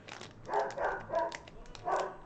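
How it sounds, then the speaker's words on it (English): A dog barks in several bursts close by, about four loud barks spread over two seconds with short gaps between them, and no talking over them. "We're just gonna ignore the yelling and barking."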